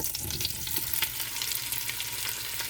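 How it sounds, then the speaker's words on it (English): Sausage fries in oil in a pot with a continuous close sizzle, steady and moderately loud, without speech. "In that same pot, I'm going to add some oil, and I'm going to cook my sausage."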